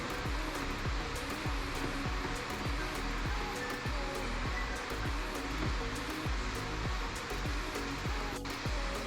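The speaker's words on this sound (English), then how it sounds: "So it's gonna suck all the coolant in." Vacuum coolant refill tool drawing coolant into an Audi Q7 with a cracked valve: a continuous loud hissing, rushing air noise with a steady pulsing rattle underneath, close and unchanging throughout.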